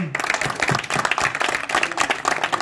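An audience applauding at a youth gathering with political candidates in Port-Gentil, dense rapid clapping from many hands at close range, sustained for a few seconds.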